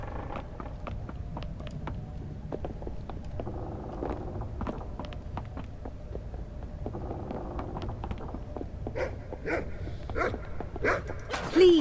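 Dog barking in The Cave, a video game set in the Twins' Mansion, with repeated sharp barks in an uneven rhythm over a steady low game hum, growing denser and louder toward the end.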